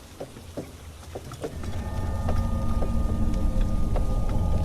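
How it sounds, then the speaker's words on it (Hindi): Steady rain pours down with a dense hiss that builds after the first second, with scattered drips and a low rumble beneath, no voices. "पर बारिश अब भी वैसी ही थी।"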